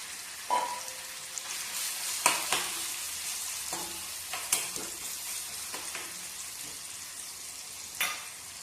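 Pieces of shark fish fry in hot oil with a steady, fairly quiet crackle, and a few sharper clinks and scrapes from stirring break through at intervals. No one speaks.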